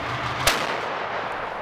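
A single blast from a 152 mm Akatsiya self-propelled howitzer booms once, sharp and loud, then rolls away into a broad hissing outdoor ambience.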